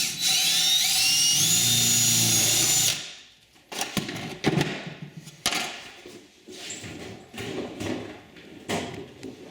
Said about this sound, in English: we're going to start out and drill a hole